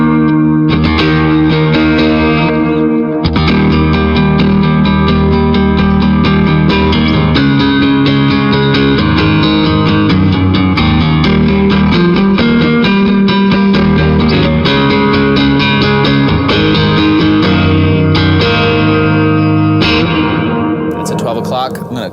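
Electric guitar played through a Jackson Audio Prism pedal at its high-gain setting, heavy distortion with thick, sustained chords ringing continuously and loudly for a long stretch.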